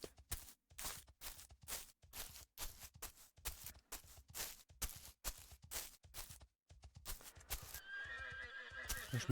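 Horses in the video game Kingdoms whinny and neigh repeatedly in loud, rhythmic bursts, with hooves clip-clopping beneath, ending in a denser, steady clatter.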